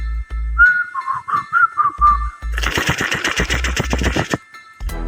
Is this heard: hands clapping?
no